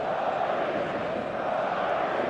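A dense, continuous roar from a stadium crowd in the eFootball video game, steady and fairly loud with no breaks.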